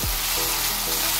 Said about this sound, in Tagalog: Lutuin muna natin mabuti ang ating ground pork.